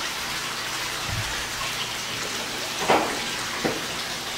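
Pond water pours from a pump hose into a filter box, a steady splashing gush close by, with a few faint knocks.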